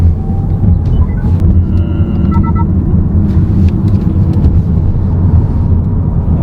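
A Honda e:Ny1 electric SUV drives in eco mode on a rough road. Steady low road and tyre rumble fills the cabin, with no engine noise, and the sound stays constant and fairly loud throughout.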